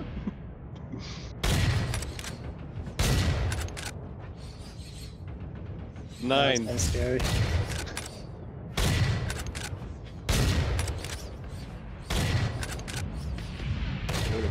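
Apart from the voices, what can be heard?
gunfire in the video game Starbase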